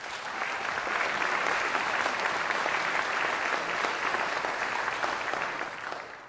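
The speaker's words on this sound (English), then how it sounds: "Let's greet them with a round of applause." Sustained applause from a debate audience greeting the moderators of a California 13th Congressional District debate, steady and full for about six seconds before tapering slightly at the end.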